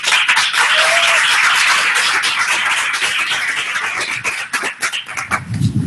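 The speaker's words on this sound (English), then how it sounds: "I wanted to give a round of applause for Kristen for joining us." Applause at the close of a digital library demonstration event: loud, dense clapping from a group, sustained for several seconds before thinning and tapering off at the end.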